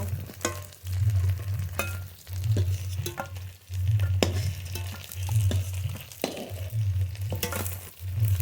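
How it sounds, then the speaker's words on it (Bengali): Fritters fry in hot oil with a constant close sizzle, broken by repeated clinks and scrapes of a utensil turning the pieces. "এপাশ ওপাশ উল্টিয়ে বড়া খুব ভালো করে ভেজে নিয়েছি"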